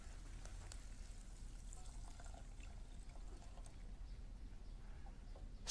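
Water pouring steadily into a pan of couscous, a continuous soft trickling splash that holds for several seconds without talk.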